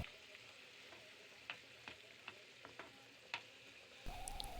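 Sliced shallots and onions sizzling in hot oil in a pan while being stirred for a sardine roast, a steady soft fry broken by sharp scraping clicks of the spoon.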